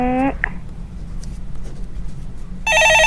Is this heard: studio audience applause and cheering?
no